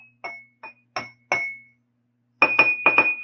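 Sharp clinks of a comb's edge against a glass ring out, a few spaced strikes followed by a quicker cluster, each leaving a bright ringing tone, close and alone.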